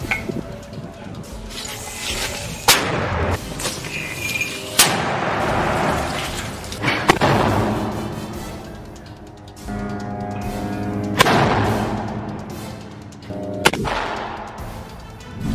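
Gunfire and artillery from war footage in the Gaza Strip: sharp, loud blasts strike at irregular intervals, each trailing off into a rumbling echo over a constant roar of background noise.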